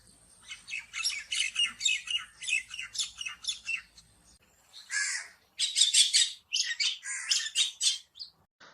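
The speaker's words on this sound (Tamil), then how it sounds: "மைனா எழுப்புற ஒலிய நாம கத்துறதுன்னு சொல்லுவோம்." A myna bird calls in bursts of harsh squawks and chattering screeches, loud and close, with a short pause midway before a fresh run of calls.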